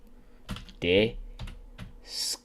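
Computer keyboard keys clack in quick, irregular bursts close by, with a person speaking over the typing.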